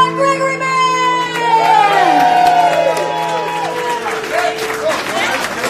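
A bar crowd at The Park Bar & Grill in Burbank claps, cheers and whoops for a band, with loud shouts and whistles over steady applause and some voices mixed in.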